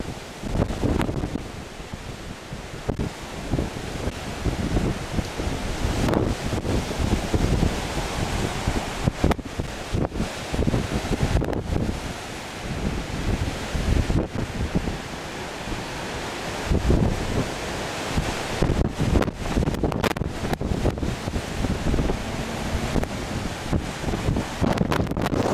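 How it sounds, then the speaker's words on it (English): Extreme thunderstorm wind gusts of around 80 km/h batter trees outdoors, a loud, continuous roar of buffeting with repeated hard gusts slamming the microphone and rustling foliage, and no voices throughout. "Wind gusts are probably around 80 kilometers an hour."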